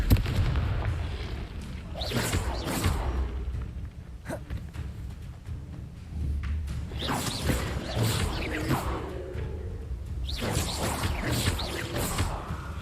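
Confringo fire spells blast repeatedly in the Hogwarts Legacy video game, producing booming, crackling explosions in several bursts over a rumbling game soundscape.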